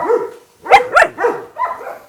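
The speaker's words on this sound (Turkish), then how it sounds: "Başka köpek mi gelmiş dışarıdan?" A German Shepherd barks in a quick series of four or five sharp, yelping barks, close and fairly loud, with short pauses between them.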